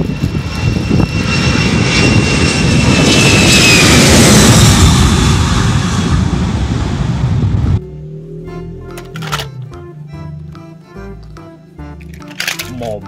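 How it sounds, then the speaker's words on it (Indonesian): An airplane engine roars loudly and steadily for about eight seconds, then cuts off abruptly, leaving quieter scattered sounds. "Ada pesawat terbang."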